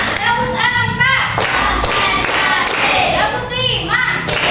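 Children in an Indonesian classroom play a rhythmic counting clap game, their hands striking in quick grouped bursts between a woman's chanted cues and children's voices, close and loud.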